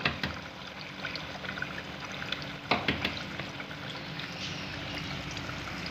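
Eggs cracked into a hot oiled pan fry with a continuous crackling sizzle, broken by a few sharp taps and spatters near the start and middle.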